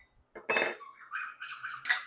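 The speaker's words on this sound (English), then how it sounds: "I've also got my handy dandy jar opener here, so I am just going to pop these lids off" A handheld jar opener prying lids off preserved garden vegetable jars, giving a sharp metallic pop followed by a few lighter clinks and scrapes, close and alone.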